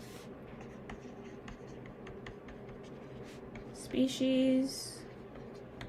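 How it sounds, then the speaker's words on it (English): Quiet scratching of pen strokes as a chemistry diagram is written out, small steady scrapes with a short, louder spoken word partway through. "Let me just write that out."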